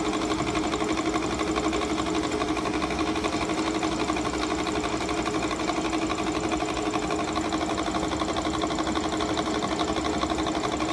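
A rotor spins on a dynamic balancing machine during tuning, giving a steady, continuous mechanical whir and hum at even loudness throughout, with no talking.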